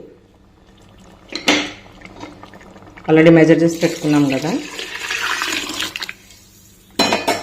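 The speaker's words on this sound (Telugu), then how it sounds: "చూడండి ఇప్పుడు మనము ఉన్నటువంటి వాటర్ యాడ్ చేసేసుకుందామండి" Water added to a pot of foxtail millet and moong dal for khichdi, a loud splashing pour in the middle with clinks of the vessel around it, and a person talking at the start and end.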